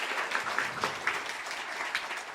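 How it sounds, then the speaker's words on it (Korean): A church congregation at a Sunday service in a Korean church in Johannesburg claps together in a warm, steady run of applause that fills the hall and carries on without pause. "박수로 우리 격려할까요?"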